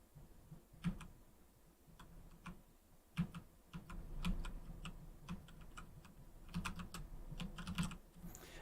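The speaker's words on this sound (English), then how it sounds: "I wanted to covertly type on a stream without muting my microphone" Quiet typing on a computer keyboard, soft scattered keystrokes in irregular bursts with a few sharper, louder clicks, likely the space bar, over a low steady room hum.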